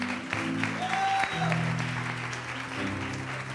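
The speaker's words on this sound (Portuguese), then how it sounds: "Aplauda o Senhor Jesus bem forte." Vigorous congregational applause in a church service, continuous and full, with a sustained musical tone or voice rising over it.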